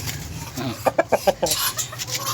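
A small bantam rooster clucks in a quick run of four or five short, close clucks, with softer scratchy bird sounds before and after in a small backyard coop.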